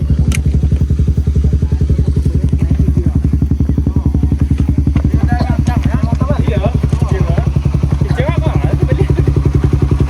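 Motorcycle engine running steadily nearby on a roadside, a dense regular low throb held for the whole stretch, with voices talking over it.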